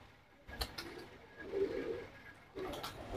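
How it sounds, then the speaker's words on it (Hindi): Low, throaty coos from fancy pigeons at a breeding loft, one soft call then a louder rolling coo and another starting near the end, close by with quiet room noise between. "देखिए एक से एक कबूतर है भाई।"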